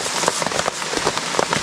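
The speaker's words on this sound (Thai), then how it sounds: "น้ำฝนนั่นแหละที่มันไหลลงตามผ้าใบนะ" Rain patters on a tarp strung up in the forest during a storm, a dense, close, irregular tapping of drops with no voices.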